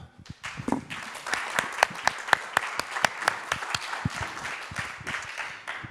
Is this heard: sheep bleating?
no